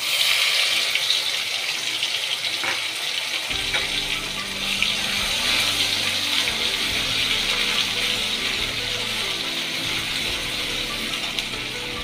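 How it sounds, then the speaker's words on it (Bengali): Spice water poured into a cooking pot for a butter potol dish, a steady close pouring and splashing that continues throughout and fills out in body partway through. "দিয়ে দেবো মশলার জলটা।"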